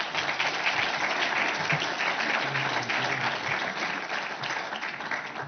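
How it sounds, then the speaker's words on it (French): At an inaugural event session, a large audience gives sustained, even applause for the sponsors and partners, a dense, steady roar of clapping throughout. "je vous demande chaleureusement d'applaudir tous nos sponsors et tous nos partenaires"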